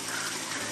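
Water gushes onto instant noodles and biscuits in a brief, loud, continuous rush with no voices.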